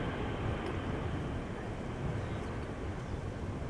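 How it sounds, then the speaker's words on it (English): Boeing 747 departing Amsterdam Schiphol, a steady, broad, distant jet roar that holds evenly throughout without any talking. "a 747 taking off from the threshold, rotating almost earlier than your average Embraer would do"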